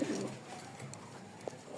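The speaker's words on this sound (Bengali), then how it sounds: "আরও কবুতর আছে ছাড়া" Pigeons coo softly in a short burst, a low murmuring call close by over faint background noise, with no one talking.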